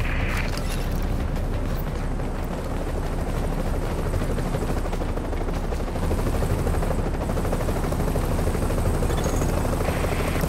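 A helicopter landing in the video game Tom Clancy's The Division, a loud, continuous rotor roar with a rumbling thump that stays steady and close for the whole stretch, with no voices.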